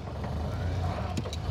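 A 1929 Ford Model A Roadster engine cranks on its starter, a low, steady mechanical churn heard at moderate distance with no voices.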